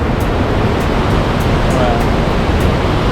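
Carlon Falls waterfall rushing as a steady, loud, dense roar of falling water filling the whole scene, with no pauses.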